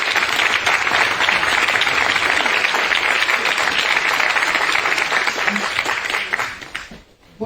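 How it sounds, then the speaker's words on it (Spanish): An audience at a lecture event applauds loudly and steadily for several seconds, then the clapping thins and fades out near the end. "Un fuerte aplauso."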